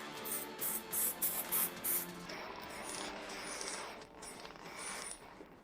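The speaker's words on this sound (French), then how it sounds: "Et maintenant, nous appliquons du spray tout autour." Aerosol spray can hissing in several short bursts around a ventilation duct opening in a wall, part of installing an O3Ozon mechanical ventilation unit in a house, followed by quieter handling noise.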